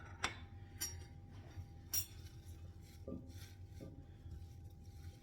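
Knife chopping fresh coriander on a clean kitchen work surface: a handful of sharp, irregular taps against a steady low background hum, close and fairly quiet, no talking.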